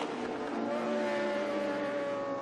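A superbike racing motorcycle, such as a Kawasaki Ninja ZX-10R or Yamaha R1, screams along the main straight at the Velopark circuit in a SuperBike Light race, a loud sustained high-revving engine tone that holds steady throughout.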